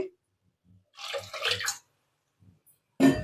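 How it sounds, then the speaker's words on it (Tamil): Water pours into a pressure cooker in short bursts, with a splashing stretch in the middle and another sudden pour at the end, separated by near silence. "குக்கரில் வந்து கொஞ்சம் தண்ணி ஊற்றிட்டு"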